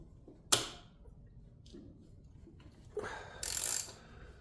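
A 9/16 wrench works the front axle of a 2005 Victory Hammer motorcycle, giving a sharp metallic click near the start, then a scraping ratchet-like turn and a brighter grinding burst toward the end, close and fairly loud.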